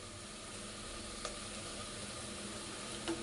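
Ground spices such as coriander and cumin powder with green chilli paste frying in a pan for mutton curry, giving a steady, quiet sizzle with a faint scrape or two and no talking.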